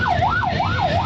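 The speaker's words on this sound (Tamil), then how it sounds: "ஆம்புலன்ஸ் தான்ப்பா, பிரச்சனை இல்லை" An ambulance siren wails on a street outside a new biryani shop in Tambaram, its rising and falling tone sweeping in steady cycles about every third of a second, loud and close over road traffic.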